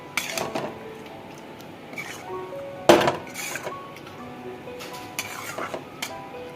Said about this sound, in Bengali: খুন্তার সাহায্যে আরেকবার নেড়ে নিচ্ছি